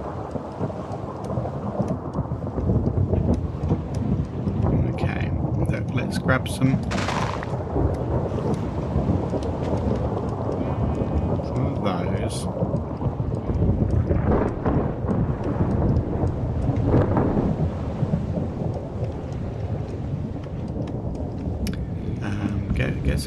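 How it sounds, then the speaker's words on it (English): A video game thunderstorm rolls on with steady heavy rain and repeated deep thunder rumbles, loud and continuous, while a player talks briefly over it. "By the thunderstorm."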